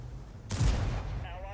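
A tank cannon fires once from a Skoda tank in a tank battle game, a sharp loud blast with a heavy low thump that rolls off into a lingering rumble.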